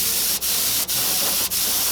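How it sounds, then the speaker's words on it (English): Close aerosol spraying of bleed checker onto a handmade leopard frog spoon and jerkbait fishing lure, a continuous hiss broken by three brief pauses between bursts. "Just spraying a few coats of bleed checker usually does it for me."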